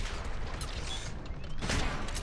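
Gunfire in the video game Mass Effect 3, a dense, continuous burst of shots in a noisy battle mix, fairly close and steady, with a stronger crack near the end.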